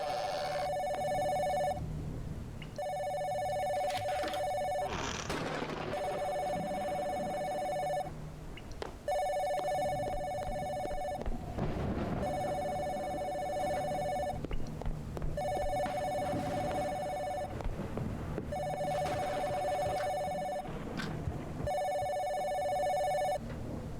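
A landline telephone rings in the video game Mirror Forge, repeated electronic double-ring bursts in a regular pattern, loud and near, with faint background sounds between rings.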